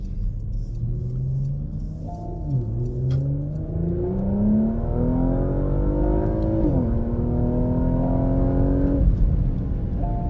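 A Porsche Macan SUV in Sport Plus mode accelerates hard, its engine note climbing steadily through the gears with brief dips at each shift, loud and close from inside the cabin with no talking.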